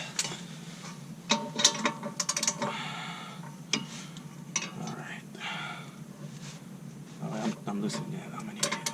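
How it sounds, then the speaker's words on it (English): A ratchet tightens a rear torsion bar bolt on a Hyundai Veloster, with bursts of close clicking and metallic clatter between pauses, and a voice talking over parts of it. "I'm going to get a ratchet and put some torquey on this thing"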